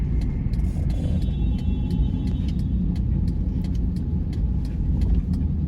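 A car pulling away in second gear on a driving-test route in Uzhhorod, heard from inside as a steady low engine and road rumble with faint ticking above, no talk.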